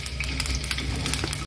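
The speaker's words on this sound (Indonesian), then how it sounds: "Setelah minyak panas, masukkan kentang yang sudah dipotong tadi." Cut potato pieces fry in hot oil for a gorgeous tahu bergedel snack, giving a dense, steady sizzle and crackle that fills the short stretch at even loudness, close up and alone.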